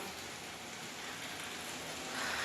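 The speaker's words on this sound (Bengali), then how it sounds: "এত জোরে বৃষ্টি পড়ছে" Rain pours down in a dense, even hiss that continues without a break, heard from a short distance.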